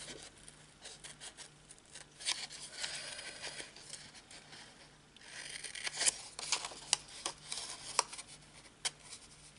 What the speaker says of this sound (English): So we don't need any of her head, so we're going to just cut that straight off.